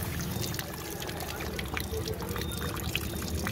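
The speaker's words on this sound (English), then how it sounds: "we are just rinsing out all the old coolant" Water rinsing old coolant out of a car radiator, a steady broadband pouring and trickling wash that stays constant throughout at close range.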